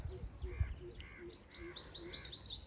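A pigeon calls over and over with a soft, low, steady coo in a village setting, while other birds chirp brightly at the same time.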